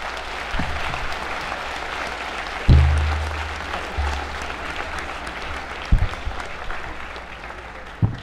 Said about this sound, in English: If you'd give them a big round of applause